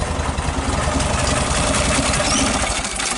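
A 1969 Volkswagen Beetle air-cooled engine turning over and running rough on a cold start with a weak auto choke, a steady loud clattering chug close by.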